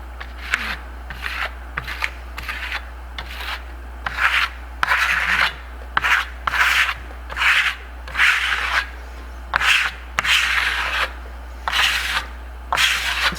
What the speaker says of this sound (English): Brush it on, trowel it, let it sit, and then we buff it with a soft rag.